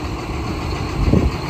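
Steady idling drone of a Case 7530 tractor engine, heard up close while backing a trailer near a wall, with a brief rise in level toward the end and no talk.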